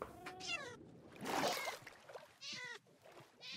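Cats in Minecraft meow several times, short rising and falling calls spread across a few seconds, with a soft splash-like burst between them and no clear speech.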